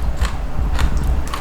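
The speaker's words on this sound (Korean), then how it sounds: "정말 아삭아삭하고 열무김치는 시원해야 되거든요" Crisp crunching bites of chilled, crunchy young radish (yeolmu) kimchi at a restaurant, three sharp crunches spaced about half a second apart, close and loud over a low background hum.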